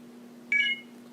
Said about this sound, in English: You heard the phone chirp, and the lightning bolt comes on, and the charging process has begun.